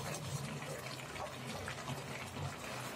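Carrot halwa mixture boiling in a pan, a faint, steady bubbling and sizzling that holds evenly throughout with no voice over it.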